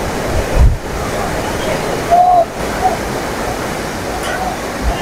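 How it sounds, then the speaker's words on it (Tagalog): Floodwater rushing through Barangay de la Paz, Antipolo City during Typhoon Enteng, a loud steady roar of torrent-like water with a few brief louder bursts, and faint voices in the background. "Grabe ang galit ng tubig."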